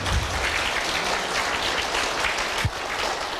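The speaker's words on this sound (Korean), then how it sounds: "다시 한번 박수 부탁드립니다." At a documentary screening in Busan, the audience claps loudly and continuously for a few seconds, with one brief thump near the end.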